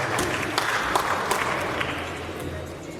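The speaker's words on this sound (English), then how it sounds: "Let us clap for him." Audience applause at a Bitcoin unconference in Kenya, a steady crowd clapping with scattered sharper claps, moderately loud and fairly close, with no talk over it.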